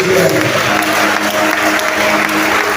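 A church congregation applauding during worship, loud dense clapping close by with voices and cheering mixed in throughout.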